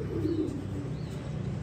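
Racing pigeons in a loft give low, soft cooing calls, with a couple of faint higher chirps above a steady close background murmur.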